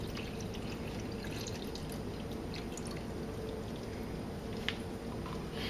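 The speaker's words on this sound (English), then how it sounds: "Next step is we're going to pour in our stop bath." Stop bath pours into a film developing tank at home, a continuous soft liquid rush and trickle with occasional drips, steady and close throughout.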